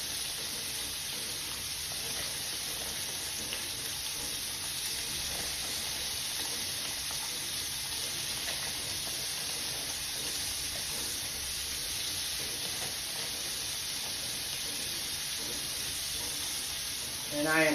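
Party chicken wings frying in fresh oil over low heat in a full skillet, a continuous dense sizzle and hiss heard close and steady throughout with light popping, no talking.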